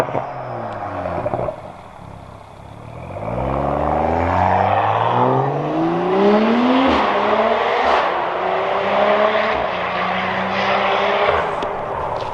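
A BMW's engine revs up from idle, the pitch climbing in rising sweeps and settling into a loud, sustained roar as the car pulls away, heard from inside or close by.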